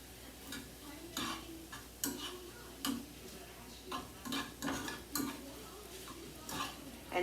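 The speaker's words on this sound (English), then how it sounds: "Let this saute a little bit." Shrimp and garlic sautéing in butter in a pan, a soft background sizzle broken by regular clicking and scraping of a utensil against the pan, close and fairly quiet.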